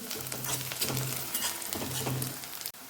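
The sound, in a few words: chopped garlic frying with onion in oil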